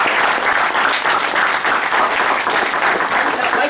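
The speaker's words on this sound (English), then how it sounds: "A big round of applause for him." A room full of people at a speech evaluation session claps in a dense, steady round of applause, loud and close, holding even for several seconds.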